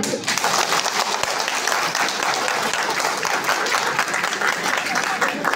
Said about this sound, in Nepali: एकचोटि किरात याक्तुङ चुम्लुङको लागि जोडदार ताली।